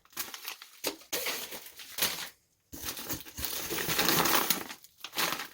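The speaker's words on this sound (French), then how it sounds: "Des enveloppes plastifiées avec des bubules." Plastic bubble-lined envelopes crinkle and crumple in bursts while a parcel of parts for an MBK 51 XR moped is unpacked, close and fairly loud, with a brief pause midway and no talking.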